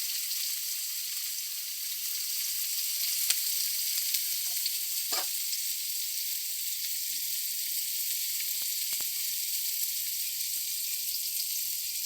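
Chopped onion sizzling steadily in hot frying oil, a continuous bright crackle and hiss throughout with a few faint clinks, cooking for a mochar (banana flower) chow mein.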